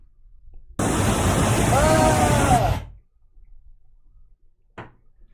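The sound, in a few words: loud waterfall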